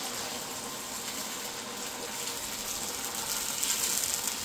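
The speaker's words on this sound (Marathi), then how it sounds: "आणि आता मी याच्यात थोडंसं पाणी टाकते" Water pours into a cooking pot in a home kitchen as a steady rushing gush that swells slightly louder toward the end, with no talking over it.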